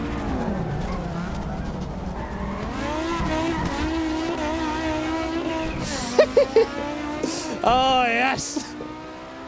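A Group B rally car engine on the Nordschleife drones at high revs, its pitch rising and holding as if bouncing off the limiter, with a brief excited voice near the end and sharp tire or gear sounds.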